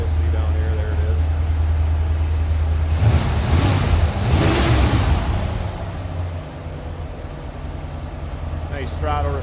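A 1945 Willys MB jeep with a Holley 4-barrel carburetor idles with a steady low rumble, then is briefly revved and settles back down, close up and continuous.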